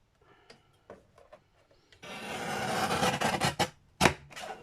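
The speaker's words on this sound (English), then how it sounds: "It's because I'm going through quite a thick-ish card." Scissors cutting through fairly thick card at a craft table, a few faint snips followed by a loud, rasping continuous cut and a couple of sharp final crunches, close up with no talking.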